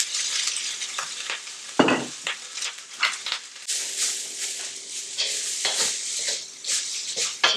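Leftover rice fries in oil in a pan with a loud, crackling sizzle, broken by stirring scrapes and the clatter of a utensil against the pan.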